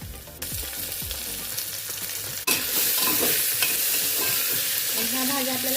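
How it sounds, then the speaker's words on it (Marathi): Potatoes and vegetables sauté in hot ghee for Maharashtrian masale bhat with a steady, loud sizzle. A spatula stirs and scrapes the pan close up, and the hiss swells sharply midway as more goes in. "ह्या भाज्या आपल्याला 1 मिनिटभर परतून घ्यायच्या।"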